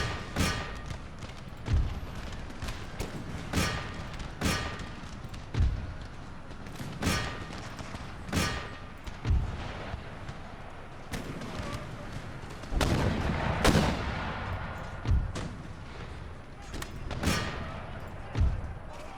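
Mortar and artillery fire in Empire Total War: heavy booming impacts land every second or two over a constant rumble of battle and musket fire, some blasts loud and close, others more muffled.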